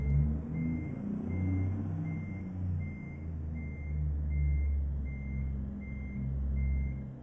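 Steady, evenly spaced reversing beeps from a truck in the video game American Truck Simulator, sounding over a low, rumbling diesel engine idle that runs throughout.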